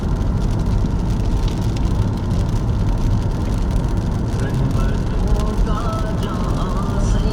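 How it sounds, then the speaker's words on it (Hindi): Rain drums steadily on a car travelling along the M4 motorway, with loud, continuous road and tyre roar and a rushing wash of water throughout, and no clear voices. "चंगी बारिश है"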